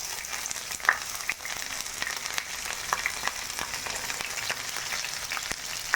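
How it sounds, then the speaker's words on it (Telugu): Thinly sliced onions and green chilies frying in oil, giving a steady, even sizzle with small scattered pops and crackles throughout, close and fairly quiet. "ఇప్పుడు మనము సన్నగా తరుక్కున్న ఎర్రగడ్డ అంటే ఉల్లిపాయలు వేసుకున్నాము"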